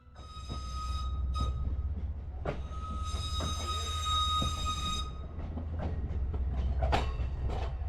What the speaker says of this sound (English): Though the train needs to be shunted into the platform.